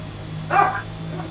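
Ollie, a small dog, lets out a single short bark, fairly close and of moderate loudness, over a steady low hum from a racing sim setup.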